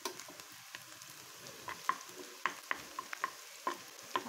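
Chopped onion and garlic frying in a pan: a quiet, soft sizzle broken by scattered sharp clicks and scrapes of a spatula stirring, close and with no voices.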